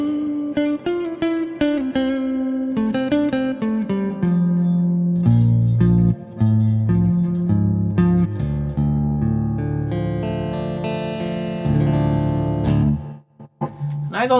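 An electric guitar is played through a Crate Turbo Valve 50-watt tube amp head with its reverb set high, giving loud, close chords and single notes that ring out with a lingering wash before a brief pause.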